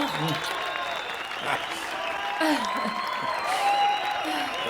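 An audience applauds at a French comedy show, steady mid-loud clapping with scattered voices and a few whoops threaded through it.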